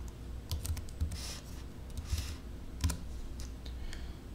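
Keys tapped on a computer keyboard while entering arithmetic in Python, a light irregular run of close, soft clicks over low room hum, with no voices.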